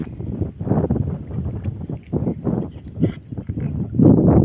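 Strong southwest monsoon wind at sea buffets the microphone aboard a small fishing boat, producing loud, gusting rumbles that surge and ease continuously, with no talking.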